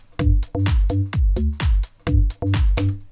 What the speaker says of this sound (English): There's a 4-bar drum loop in it.